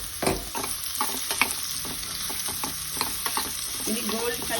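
Radish pieces fry in hot oil in a pan, a continuous close sizzle with frequent spoon stirs and scrapes, no talking.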